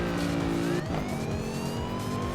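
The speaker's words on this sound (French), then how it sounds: "on a vu passer une voiture, c'est pareil qui était niveau 1" A car in the racing game Need for Speed Rivals roars past with a loud engine whine whose pitch sweeps downward as it goes by. A steady engine bed plays underneath.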